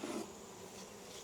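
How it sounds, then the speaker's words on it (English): Honey bees buzzing inside an open beehive, a dense, steady close-up drone of many insects with no voices. "That means there's a good amount of bees in there."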